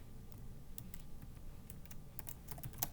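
Steady computer keyboard typing, a quick run of light clicking keystrokes at moderate distance with no talking, entering a risk-free rate value while coding in Python.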